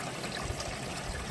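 Water trickling out of a UV pond filter onto a sieve: a steady, close, broadband splashing and running-water wash with no clear breaks and no talking.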